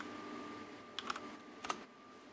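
A folder name typed on a computer keyboard, heard as two quiet, quick bursts of keystroke clicks against a faint background hum.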